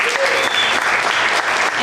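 A crowd at a contest applauds the contestants steadily and loudly, dense clapping filling the whole stretch without pause.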